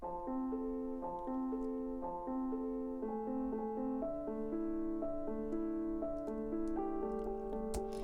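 Sustained synthesizer chords from a rap beat change in a steady progression, warm layered tones played alone with a faint low pulse beneath.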